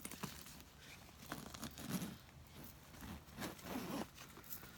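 A quiet handbag zipper is pulled in a few short runs, with faint rustling of material in between.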